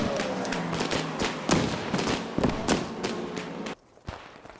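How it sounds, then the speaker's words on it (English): Several sharp blasts and booms from grenades and battlefield fire in Post Scriptum sound in an irregular sequence, some near and heavy, before dropping to near quiet with one last thump. "I'll toss a couple of grenades just to be sure."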